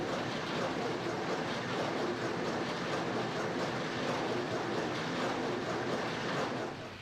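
A Krone BiG Pack 1290 HDP large square baler at work: dense, continuous mechanical clatter and rumble with a fast rhythmic pulse from the plunger, steady and fairly close throughout.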